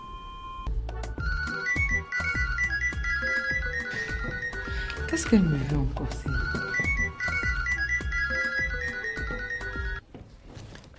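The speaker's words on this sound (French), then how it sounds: "son portable sonne pendant des heures comme ça" A mobile phone ringtone plays a repeating electronic melody, continuing for several seconds while someone speaks briefly over it.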